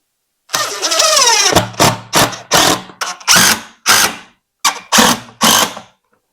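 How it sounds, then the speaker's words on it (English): A power driver drives screws into a black walnut live-edge window frame. A long whirring drive is followed by a series of short, loud bursts with pauses between them, close by and with no talking. "so we're going to go ahead and screw it into place."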